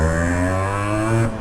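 A two-stroke motorcycle engine revs hard and close, a loud buzzing note with strong harmonics that holds steady and then drops off sharply near the end.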